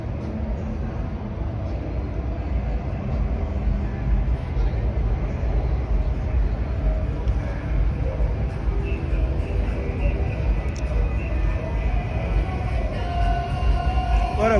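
A train passing through a small train station in Nashville, heard as a steady low rumble and rolling roar that holds fairly loud and even throughout.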